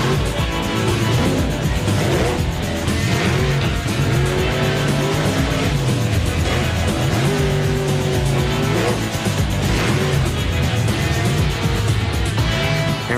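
The Bigfoot monster truck performs freestyle wheelies at an arena show, its engine roaring loud and continuous with rising and falling revs throughout.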